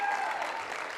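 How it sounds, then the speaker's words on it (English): Crowd in a gym applauds steadily as players are taken out one at a time near the end of a girls' high school basketball game, Lander Valley against Powell, with continuous clapping throughout. "And Coach Stauffenberg taking those girls out one at a time so they can get the applause of the crowd."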